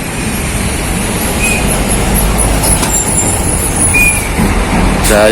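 A Jaya Ponorogo Hino AK bus passing on a non-toll arterial road in East Java, a loud continuous engine and tyre roar close by with brief air-brake hisses and a higher whine near the end.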